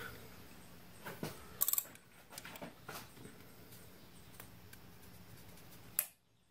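Ratchet with a 5/8 socket and extension working on the spark plug of a BMW E60 N52 engine: faint, scattered clicks and a brief metallic snap over low background hiss, ending in a short sharp click.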